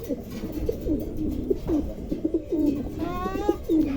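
Several pigeons coo close by in repeated throaty, rolling calls, with a brief higher warble near the end.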